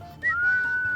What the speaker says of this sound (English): The short one is a chirp, but if you do a long whistle, Red's just going to sit and stay.